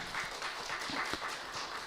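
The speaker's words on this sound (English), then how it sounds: "So we can really clap for Golo Bhai." Audience members clap for Golo Bhai in a distant, fairly soft burst of applause. The clapping is steady, with a few sharper claps standing out.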